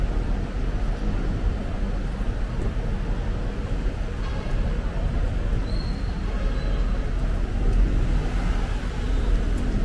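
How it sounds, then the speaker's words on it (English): Dense, steady road traffic in Manila, a continuous wash of engines and roadway rumble with no distinct pass-bys standing out, loud and unbroken throughout. "First experience with the madness of Manila traffic."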